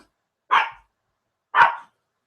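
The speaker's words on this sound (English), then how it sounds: "probably hear my dog barking in the background there." A dog barks twice, about a second apart, each bark short and sharp and fairly close, with silence around and between them.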